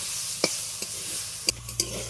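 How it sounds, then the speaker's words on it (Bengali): Red amaranth greens fried in a pan keep up a continuous low sizzle, with a few distinct stirring scrapes. "নেড়ে চেড়ে এক দুই মিনিট ভেজে নিলেই কিন্তু আমার লাল শাক ভাজা হয়ে যাবে"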